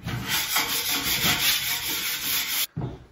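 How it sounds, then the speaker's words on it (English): A scraper knocks high spots off a skim-coated bathroom wall in an off-grid cabin, a steady, close rasping drag lasting a few seconds with a short break near the end. "Now we're just gonna go along and scrape off all the high spots."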